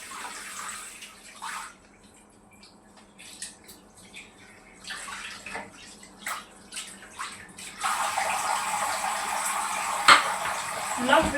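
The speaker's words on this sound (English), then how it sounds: "Then I'm gonna rinse the fruits as well." Fruit being rinsed under running tap water while making watermelon juice, with light clinks and handling noises at first, then a steady stream of water hitting the produce close to the microphone.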